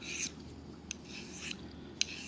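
A knife drawn at a steep angle across a sharpening surface makes faint, soft rasping strokes, a few brief scrapes spread over a couple of seconds, quiet and without speech.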